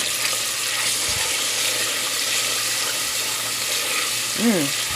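Onions, garlic and potatoes frying in a pan for a potato and peas coconut milk dish, giving a steady, moderately loud sizzle with a brief stir near the end and a voice faintly underneath.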